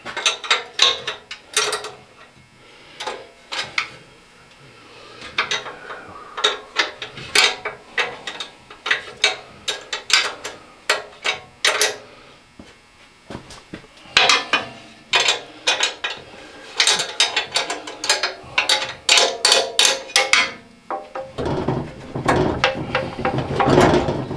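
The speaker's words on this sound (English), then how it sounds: "grab a wrench and see if we can't drop her down just a hair" A wrench ratchets and clanks against metal while the engine mount on a Cub Cadet 582 pulling tractor is adjusted, with irregular bursts of clicks and clatter, loud and close, getting busier near the end.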